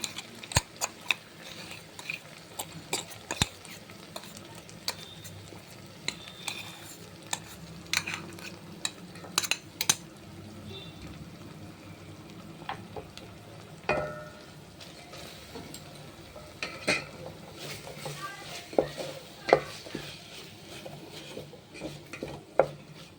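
A spoon stirs a tomato and ground spice powder mixture for pepper rasam in a pot, with scattered sharp scrapes and clinks against the metal over a soft sizzle, irregular and close, with no voices.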